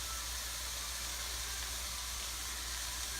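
Green onions tipped into a hot pan, giving a steady, even sizzle and hiss that holds at the same level from start to finish, with no voices.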